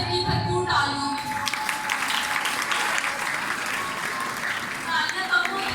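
An audience at a Women's Day seminar in a Samanabad parish breaks into full, sustained applause. A voice speaks briefly over the opening and again as the clapping continues.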